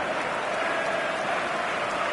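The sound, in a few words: stadium crowd applauding in video game PES 2025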